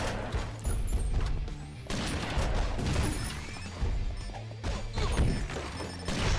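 Glass smashes repeatedly in the video game Mr Shifty, with several loud crashing bursts and clattering shards breaking up a rhythmic game soundtrack.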